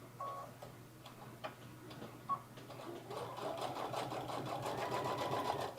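A sewing machine backstitches over a seam on a fur tote, starting with a few faint separate ticks, then running steadily and louder through the second half, close up with no talking.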